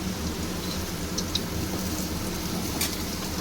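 Potatoes fry in hot oil in a pan after salt is added, giving a steady, even sizzle like light rain that runs throughout, close and alone with no talking.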